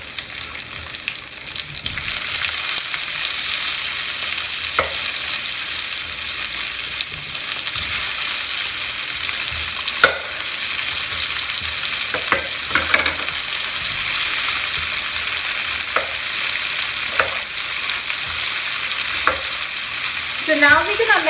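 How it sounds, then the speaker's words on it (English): Chopped tomatoes for salsa cooking in a pan on a medium-high flame, a steady even sizzle and hiss running throughout, with occasional soft taps and clicks from the pan. "So now we're gonna let this cook on medium to high flame for about few minutes."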